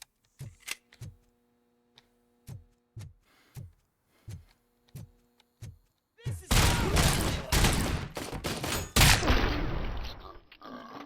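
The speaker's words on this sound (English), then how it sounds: "they take a lot of shots from a shotgun" Shotgun blasts ring out in the video game Robocop Rogue City, a series of evenly spaced sharp booms followed by a dense, loud stretch of continuous gunfire and combat noise.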